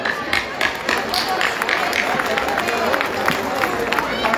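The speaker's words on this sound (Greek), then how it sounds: "Ένα μεγάλο χειροκρότημα για όλους τους εθελοντές" Continuous applause from an audience at a Pontian cultural festival in Korinos, many hands clapping at a steady level with crowd murmur underneath, moderately loud and sustained.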